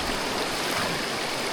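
Steady rushing river current during a river crossing, a broad continuous wash of flowing water close by, with no talk over it.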